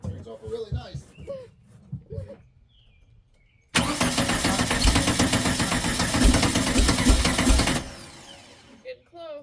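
A car engine cranks briefly after some talk, then catches and runs loudly and steadily for several seconds before cutting off, with people speaking beforehand.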